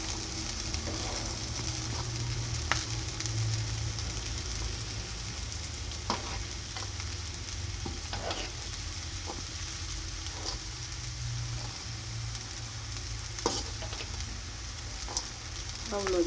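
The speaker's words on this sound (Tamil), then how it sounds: "அடி பிடிச்சிடாமல் நல்லா கலந்து விடுங்க" Boiled karamani (black-eyed peas) sundal being stirred in a pan, a soft continuous sizzle under a low hum with occasional light scrapes of the spoon, fairly quiet and close.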